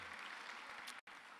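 An audience at an emergency management summit claps and cheers in a dense, sustained wash of applause, cut by one brief dropout near the end.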